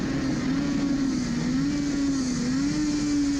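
A two-stroke Suzuki RG500 racing motorcycle on the Isle of Man road circuit holds a steady, loud engine note heard from onboard, with a slight wavering in pitch but no clear braking or gear changes.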